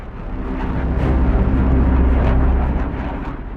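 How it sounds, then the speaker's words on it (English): An F-16 fighter jet taking off at full throttle with afterburner gives a loud, sustained roar with a heavy low rumble that swells and holds steady, up close and with no voices. "The powerful afterburner engine is essential in the F-16's full-throttle takeoff"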